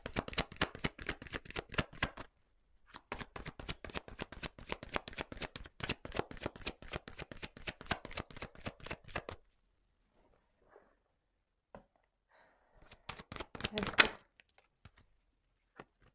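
Tarot cards being shuffled by hand, long runs of rapid riffling taps close up, then a pause and a brief final burst as a card is drawn.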